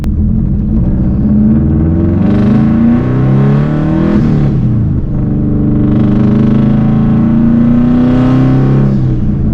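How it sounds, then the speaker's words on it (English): A Subaru 2.5RS fitted with a swapped WRX engine idles roughly and revs up and down nearby, loud and continuous with a mid-clip dip before climbing again, no talking. "It's like it's running on 3 almost, and then when you get into boost, it clears up and runs on all 4."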